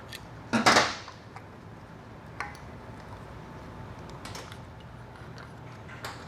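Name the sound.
snap ring pliers compressing a snap ring clip in a Ford AOD transmission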